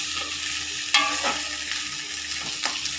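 Tomatoes for an egg curry fry in a pan with a steady hissing sizzle, broken by a sharp spatula scrape and a few stirring strokes, close and unbroken by talk.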